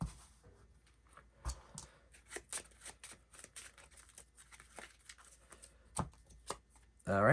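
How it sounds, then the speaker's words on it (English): Playing cards are shuffled by hand during a Ward card game duel, a series of soft, scattered riffles and taps, quiet and close, ending in a louder burst. "Shuffle that in, draw 1 card until we draw a creature"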